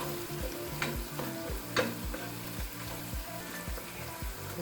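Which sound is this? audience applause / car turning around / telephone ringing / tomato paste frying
tomato paste frying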